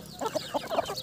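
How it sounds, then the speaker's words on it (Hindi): Pure desi chickens on a small farm of about fifty birds cluck in a quick burst of several short notes, close by, with no voices. "50 मुर्गियाँ हमारे पास प्योर देसी मुर्गी हैं"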